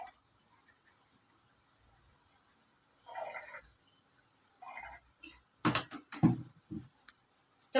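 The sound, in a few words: hot water poured into a hot water bottle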